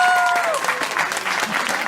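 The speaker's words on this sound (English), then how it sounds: "Round of applause, please, for all of our people." Audience applause at the Nottingham EM Comic Con 2018, honoring convention guests: a dense, steady wash of clapping from a crowd that carries on for about two seconds.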